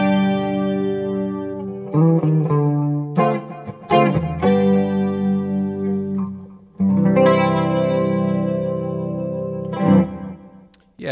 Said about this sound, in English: a nice chorus delay sound.